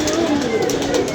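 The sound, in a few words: pigeons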